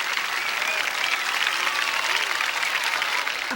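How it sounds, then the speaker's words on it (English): A crowd of about 40,000 at the Gateway Arch claps and cheers for President Carter, some demonstrators among them. The applause is dense and steady, and faint voices sound beneath it. "Before a cheering crowd that included some demonstrators, President Carter"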